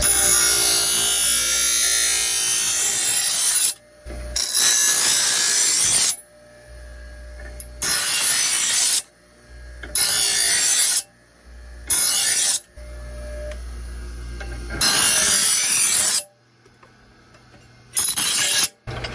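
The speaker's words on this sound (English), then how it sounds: "Let's sharpen one of these knives here." A knife is sharpened by a hand in cut-resistant nitrile-grip gloves, loud close rasping strokes repeating in long and short bursts with brief gaps between them.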